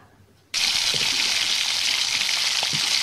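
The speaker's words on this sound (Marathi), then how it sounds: "कांदा मस्तपैकी भाजून घ्यायचा आहे" Onion dropped into hot oil already crackling with mustard seeds and curry leaves: after a short quiet moment a sudden loud, steady sizzle bursts up close and keeps going without a break.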